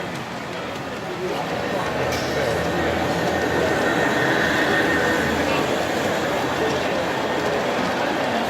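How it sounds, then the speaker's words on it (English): A long model passenger train rumbles steadily along its track at a train show, a continuous clattering roll that stays level and fairly close for the whole stretch. "We got a nice long passenger train coming up."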